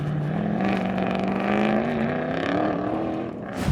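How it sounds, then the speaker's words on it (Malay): A Toyota V8 race car engine roars steadily at close range, its pitch climbing gradually as it revs, loud throughout with no talking. "Tapi enjin kereta ni bunyi dia sedap weh."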